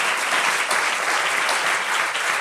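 An audience at a political rally claps loudly and steadily, a dense, continuous burst of applause lasting a couple of seconds with no talking over it.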